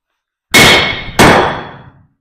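A blacksmith's hammer strikes an anvil twice, each a loud, bright metallic clang that rings out and decays, the second hit following about half a second after the first, close and alone.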